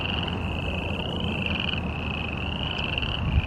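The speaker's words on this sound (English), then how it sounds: "That's a bullfrog." Continuous dense chorus of croaking bullfrogs, loud and steady throughout, with a high whining tone running over the top and no voices.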